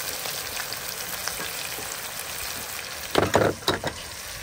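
Spice paste of ginger, garlic and onion frying in a pan for a mushroom dish, a steady close sizzle with a burst of louder stirring scrapes and crackles near the end.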